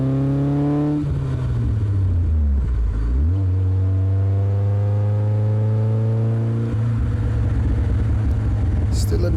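BMW E30 M3 engine revs through the gears, the tone climbing steadily, dropping at each shift and climbing again, loud and close throughout.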